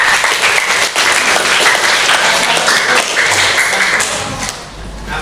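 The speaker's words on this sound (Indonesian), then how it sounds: "beri tepuk tangan anak-anak" Students in a seventh-grade classroom give a round of applause. Loud, steady clapping from many hands lasts several seconds and then tapers off toward the end.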